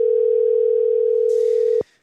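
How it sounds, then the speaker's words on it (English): An outgoing phone call ringing back, one steady loud ring tone held for nearly two seconds before cutting off sharply into quiet. "Let's see if Blake will answer the phone."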